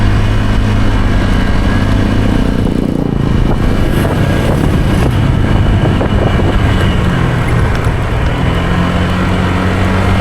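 Motorcycle engine idling nearby, a steady loud low chugging rumble that continues throughout, with no talking.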